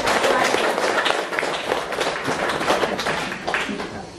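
Audience at a village health service event in Manggarai Timur applauds, a dense patter of many hands clapping at close range that carries on steadily for several seconds before tapering slightly.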